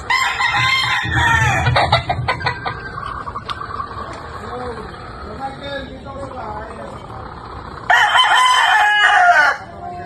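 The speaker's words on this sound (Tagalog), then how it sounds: "ito pa nga po pala ang isa nating brood stag na candidate para sa darating na breeding season" A gamefowl brood stag crows loudly and clucks nearby, with bursts of rooster calls at the start and again near the end, while someone speaks over the farmyard sounds.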